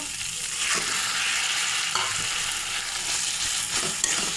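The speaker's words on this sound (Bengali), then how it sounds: "মশলার সঙ্গে শাকটা মিশিয়ে নেব" Taro leaves stirred into spice paste in a pan with broad bean seeds, a dense, close sizzle with periodic scraping stirs across the whole stretch.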